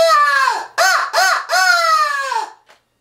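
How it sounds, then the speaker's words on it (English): A Night and Hail crow locator call used for turkey hunting blows four loud, harsh caws in quick succession, each one rough and nasal with a falling tail, the last drawn out before a brief faint click. "I do have a crow call, locator call, from Night and Hail, actually."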